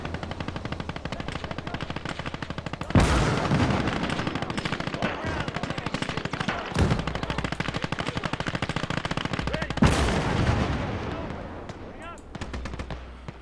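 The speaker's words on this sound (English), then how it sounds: "Let's get another howitzer down." Howitzer artillery fire in the WWII game Gates of Hell, with heavy booms breaking out over continuous rattling machine-gun fire in a dense, loud battle soundscape.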